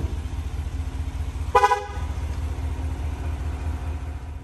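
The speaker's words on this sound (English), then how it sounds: "if you get out of the car with the key fob, it will honk three times" A single short GM vehicle horn toot, sounded when the key fob leaves the car, cuts through a steady low engine rumble, nearby and fairly loud.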